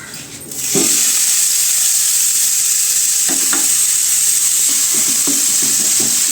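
Onions hit hot oil in a pan for a pearl spot fish dish and set off a loud, steady, close sizzle that holds throughout, with occasional soft knocks of a stirring utensil.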